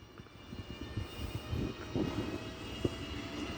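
Train pulling away from Opole Główne station, sounding like a Griffin locomotive, a faint distant low rumble and drone slowly building with occasional clunks, no voices.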